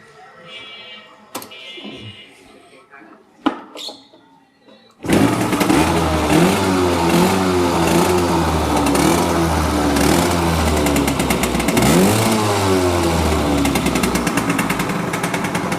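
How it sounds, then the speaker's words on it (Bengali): A Japanese Suzuki A100 80cc two-stroke motorcycle sputters after a few quiet knocks, then runs loud and close with a rattling, buzzy idle and repeated revs rising and falling. "এটা 80 সিসির বাইক, A100 সুজুকি জাপানি, 2 স্ট্রোক বাইক, প্রতি কিকে স্টার্ট উঠবে।"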